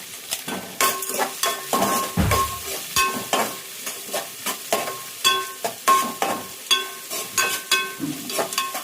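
Chana dal and urad dal frying in hot oil with a steady sizzle, broken up by repeated scraping and stirring strokes against the pan at an irregular rhythm, close and clear with no talk.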